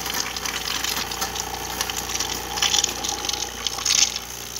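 A Breville Oracle espresso machine pours a heavy stream of hot water from its spout into a cup, a steady close hiss and splash with the machine's pump hum underneath, alone without talk.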